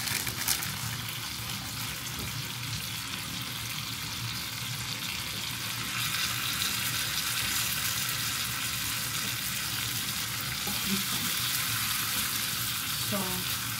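Ground beef frying in a pan for Filipino picadillo with tomatoes, a steady broadband sizzle running throughout at moderate level with a few faint clinks near the end.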